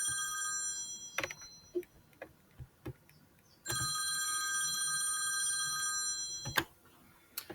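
A telephone rings with an incoming call, sounding as two long loud bursts of bright electronic ringing separated by a pause, with quiet ticking clicks in between and no talk.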